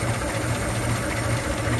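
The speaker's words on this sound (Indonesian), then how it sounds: "mesin tetap nyala gitu ya. Ini langsam, jos pisan." A Daihatsu Hijet 1000 engine idles smoothly and close up, a steady low rumble with an even pulsing throb and a loud, constant level. No voices are heard.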